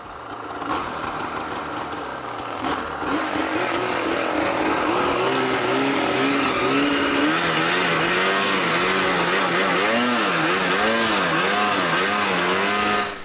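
An Arctic Cat Alpha One snowmobile rides across snow, its engine a loud steady drone that rises and falls in wavering revs throughout, with no voices.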